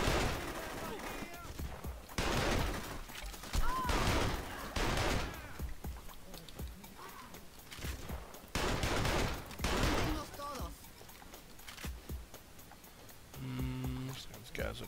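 Gunfire in the Saints Row 2 video game, with repeated bursts of shots and heavy volleys coming in waves across the whole stretch, loud and near, with voices talking between and over the shooting.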